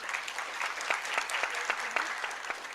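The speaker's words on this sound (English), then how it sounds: "give a huge round of applause for our esteemed panelists" An audience at a rural development conference in Raipur applauds its panelists, a steady, fairly close wash of clapping with scattered louder individual claps throughout.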